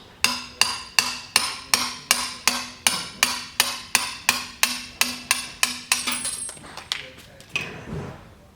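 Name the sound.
hammering out roll pin from Crown pallet jack handle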